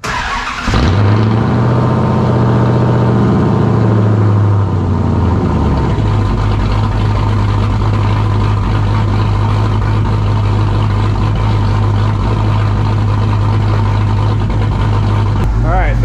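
A Dodge truck fitted with a Scat Pack exhaust cold-starts on a very hot day, cranking briefly before catching with a loud rumble. It then settles into a steady, deep, close idle that continues on its own.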